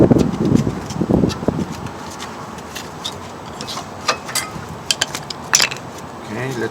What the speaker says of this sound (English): Lift the caliper and remove the pads.